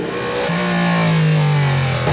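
A Le Mans race car roars past at speed with a steady, loud engine note, one rising tone holding near and then easing as it goes by.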